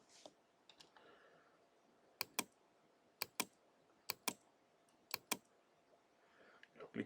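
Mouse clicks in Illustrator come in quick paired bursts, four or five evenly spaced double clicks close to the mic, over a soft background hiss.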